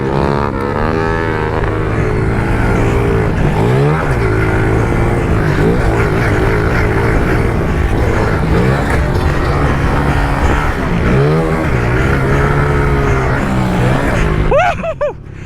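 A pit bike engine revs and bogs as it rides through sand on a race track, loud and close throughout, with rising and falling throttle pitch and a brief quieter dip at the end.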